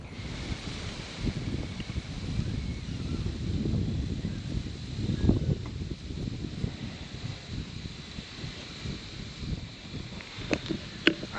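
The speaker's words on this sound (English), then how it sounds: "we have a southwest wind which is blowing right in my face" A southwest wind blows across a deer hunting tree stand beside an orchard in Ohio, a steady low rumble of wind noise against the microphone with faint rustling and a few light clicks near the end.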